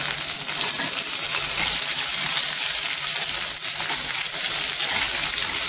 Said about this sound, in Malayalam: ചുമന്നുള്ളി ഒന്ന് ഇട്ടിട്ട് മൂപ്പിച്ചെടുക്കാം ഇപ്പോൾ ഉള്ളി നന്നായി മൂത്ത് വരുന്നുണ്ട് അപ്പോൾ ഇതിലേക്ക് കുറച്ച് വറ്റൽമുളകും കറിവേപ്പിലയും കൂടിയും ഇട്ട് കൊടുക്കാം